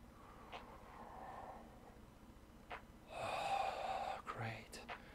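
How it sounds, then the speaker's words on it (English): During a back-strengthening yoga session, a loud, close, deep breath is drawn in, following a few quieter breaths and soft movement sounds. "Breathing in deep."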